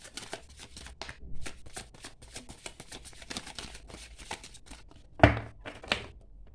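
Tarot cards are drawn and handled from a deck in a rapid series of close, crisp flicks and slides, with one heavier tap near the end.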